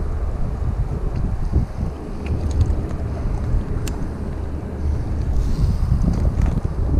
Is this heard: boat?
yes